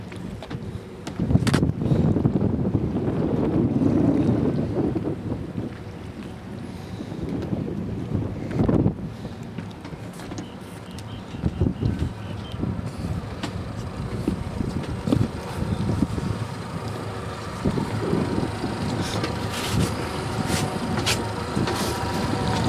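A HydraSport boat with twin Honda 130 outboard engines runs steadily, a low engine rumble mixed with rushing wind buffeting the microphone and water splashing, loud and continuous for about twenty seconds.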